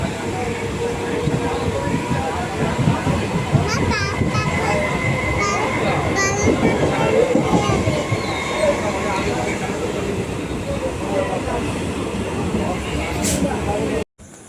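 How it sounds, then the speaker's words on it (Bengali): Steady rumbling of a moving train carriage, loud and continuous throughout, with faint voices and clatter in the background before an abrupt cut at the end. "এই যে ট্রেন ধরলাম, উঠে পড়েছি ট্রেনে।"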